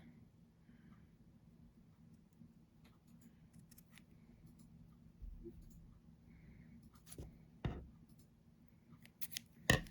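Scissors snip freehand through scrap black felt for a crochet amigurumi project, giving a few soft, close cuts scattered over quiet room tone, with sharper snips near the end.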